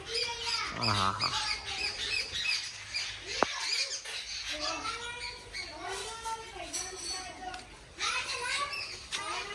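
Birds chirp and tweet throughout amid a busy outdoor scene, with children's voices and laughter mixed in.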